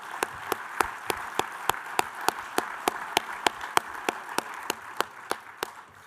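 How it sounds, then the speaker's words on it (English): A small audience at an almond agriculture advocacy event claps for elected officials, with about twenty sharp, evenly spaced claps over a steady diffuse patter. It sounds like a thin, moderately quiet round of applause with no talk. "So if we can get a round of applause for our electeds here."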